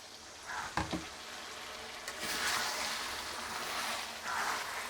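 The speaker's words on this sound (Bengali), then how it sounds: "আমি সামান্য একটু জল দিই।" Water poured into a pan of frying chilli-spiced potato and egg curry, a sharp splash followed by steady, loud sizzling and bubbling that rises and holds close by, with no talking.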